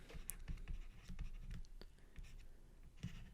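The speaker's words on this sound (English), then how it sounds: "let's write this down here." Pen scratching across paper while working an engineering energy balance problem, a soft, close scribble of short strokes with small taps, fairly faint against a quiet room.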